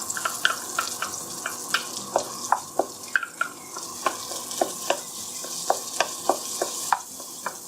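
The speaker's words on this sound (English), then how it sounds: "And then cook onion." Onion frying in a pan for Thai egg fried rice, a steady sizzle broken by frequent sharp clicks of a utensil against the pan, close and moderately loud.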